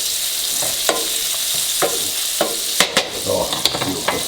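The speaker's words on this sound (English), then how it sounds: "we wanna add our garlic right into the mix. Stir that up until it gets fragrant." Garlic sautés with mushrooms in a pan, a steady sizzle punctuated by sharp spoon or spatula taps and scrapes at uneven intervals, growing busier toward the end.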